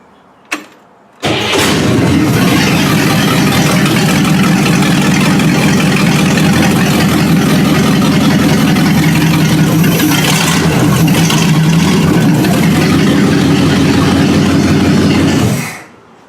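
A car engine starts with a short crank, then idles loudly and steadily for about fifteen seconds before cutting off abruptly.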